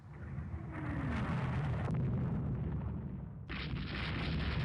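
Deep booming rumble of 9-inch naval guns firing in Rule the Waves 2, a loud sustained roar with a sharp crack near the middle and another burst toward the end.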